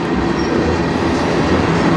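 A CN manifest freight train led by locomotives 3091 and 3280 passing close by in Sarnia, Ontario, a loud continuous rumble of rolling cars with wheel clatter and a faint squeal.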